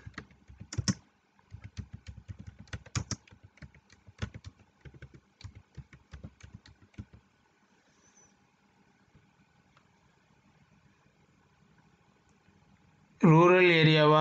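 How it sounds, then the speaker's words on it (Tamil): Typing on a computer keyboard while filling in an online RTI application form, with dense clusters of close key clicks in bursts, then a quiet pause and a short burst of other sound at the end. "அட்ரஸை கரெக்டாக டைப் பண்ணிடுங்க."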